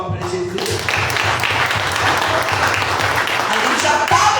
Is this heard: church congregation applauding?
yes